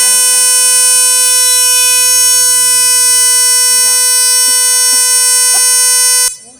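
A loud, harsh electronic buzzer blares continuously for about six seconds, then cuts off abruptly.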